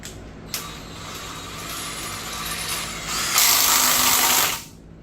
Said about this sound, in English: We're going to go ahead and put that crank bolt back in.